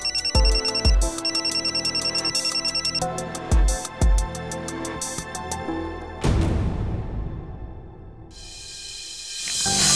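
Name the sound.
telephone ringing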